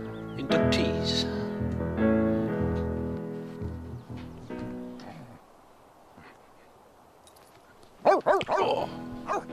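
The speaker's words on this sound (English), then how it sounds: "What's Snowy barking at? Snowy, what you barking at?" A dog barks in a burst near the end of a Sims 3 game scene, following a stretch of tonal game music and a quiet pause.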